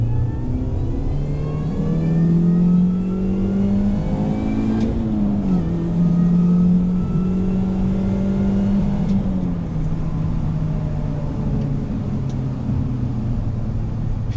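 A Mini Cooper S engine heard from inside the car pulls through the gears, a steady droning tone rising with revs, dipping briefly at a shift around five seconds, then climbing again and easing off.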